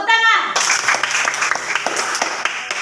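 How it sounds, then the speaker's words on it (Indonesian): Schoolchildren clapping their hands together in a classroom, a burst of quick, uneven claps following a short spoken bit, close and lively with a voice audible. "Terus tepuk tangan."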